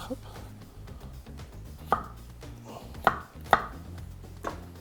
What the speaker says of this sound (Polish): Ziemniaka kroimy w grubszą kostkę.